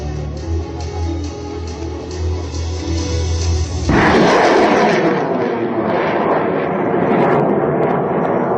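A Spider surface-to-air missile launches at an aerial target near the Pakistan border: a steady low hum gives way to a sudden loud roaring blast that rushes on and slowly fades over several seconds.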